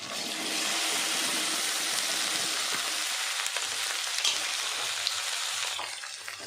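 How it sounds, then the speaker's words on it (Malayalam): Chopped okra sizzles steadily in hot oil in a pan for a Kerala-style stir-fry, a loud, continuous crackling hiss close up with no talk. "അതിനകത്തേക്ക് നമുക്ക് വെണ്ടയ്ക്ക അരിഞ്ഞ് വെച്ചത് നമുക്കിടാം."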